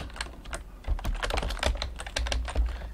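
Rapid, continuous clatter of keys on a computer keyboard while a name is entered into a document header, close-up and steady with a low background hum.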